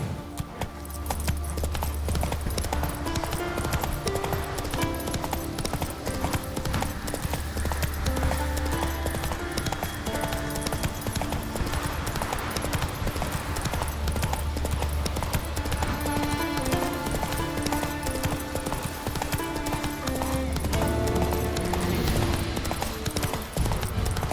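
Galloping horse hooves in The Witcher 3 pound in a steady rhythm throughout, mixed with in-game music and ambience, with no talking over them.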